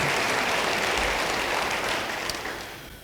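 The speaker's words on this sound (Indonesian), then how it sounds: "Beri tepuk tangan yang baik bagi dia" Congregation at a church service applauding steadily, a dense wash of many hands that holds loud before slowly fading toward the end.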